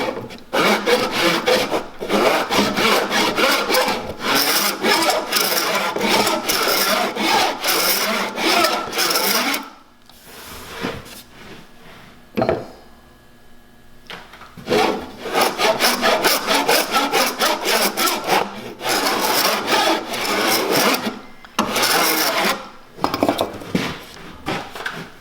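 Rough, rhythmic rasping of a sanding block scrubbing back and forth across a curved wooden surface, continuous and close, with a short pause in the middle before the strokes resume.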